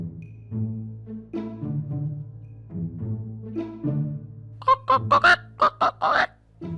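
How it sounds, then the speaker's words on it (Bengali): Cartoon chickens call out at night, first with drawn-out honking cries and then with a quick run of sharp, loud clucks near the end. "মুরগি এত রাতে ডাকাডাকি করছে কেন"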